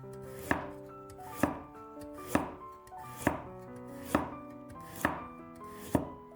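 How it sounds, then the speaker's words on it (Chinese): A knife slices a peeled carrot into thick pieces, with seven crisp, evenly spaced chops landing close by at about one per second and nothing else heard. "先切成厚厚的薄片。"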